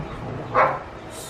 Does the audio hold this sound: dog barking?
yes